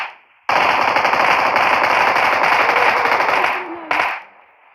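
A sustained burst of rapid automatic gunfire in PUBG Mobile's Metro Royale mode lasting several seconds, loud and close, followed by one short final burst.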